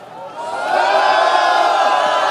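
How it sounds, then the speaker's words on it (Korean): A crowd at a candlelight rally calling for electoral reform roars and whoops, the cheering rising quickly in the first half second and then holding at a loud, sustained level. "큰 함성 부탁합니다."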